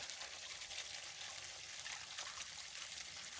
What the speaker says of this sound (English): With water trickling out.